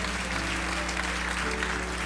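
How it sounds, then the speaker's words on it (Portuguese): Church congregation clapping together at an evening service, steady dense applause filling the space without letup, a mid-distance crowd sound with no distinct voices standing out. "Aplauda o Rei Jesus"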